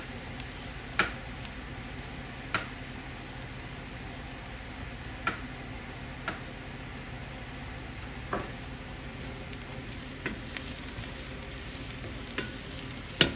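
Vegetables sweat in a pan for a hamburger potato stroganoff, a quiet, even sizzle running steadily with occasional sharp ticks and stirring clicks, no talking.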